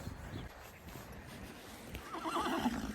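A pony neighs outdoors on a farm, a wavering whinny rising over faint background noise and soft movement near the end of the clip, moderately close and without talk.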